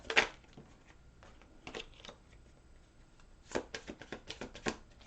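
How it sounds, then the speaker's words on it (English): Tarot cards are shuffled in a few quiet bursts of soft riffling and tapping, separated by near-silent pauses. "One more shuffle here for Pisces."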